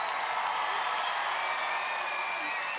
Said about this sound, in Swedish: Den här publiken förtjänar världens största applåd.